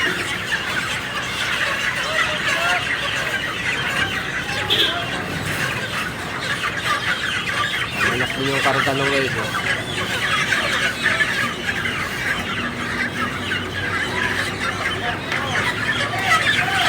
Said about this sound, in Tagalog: Ang daming manok dito kinakatay